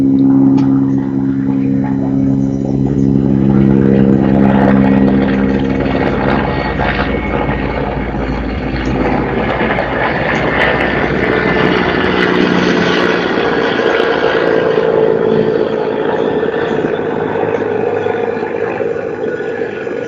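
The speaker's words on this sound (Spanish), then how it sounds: "hemos dejado pasar a este helicóptero, estamos cerca del helipuerto, por eso es que es ese ruido" A helicopter passing close by near a heliport, a loud sustained rotor and engine roar with droning whine that shifts gradually over twenty seconds, filling the scene without voices.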